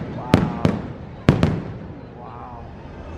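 Fireworks bursting over Galaxy's Edge at a theme park: four sharp, loud booms in two close pairs, then a rumbling tail, with a faint crowd murmur beneath.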